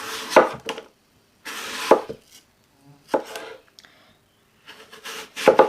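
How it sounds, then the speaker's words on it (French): A knife cuts through apple slices on a board, giving separate bursts of crisp, close cutting strokes with short quiet gaps between them. "on va venir couper des tranches de pommes"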